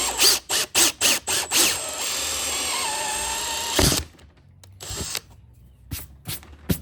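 A power drill bores a parking sensor hole through an unpainted plastic car bumper in short, loud bursts, then runs steadily for a couple of seconds before stopping, followed by scattered clicks and handling sounds.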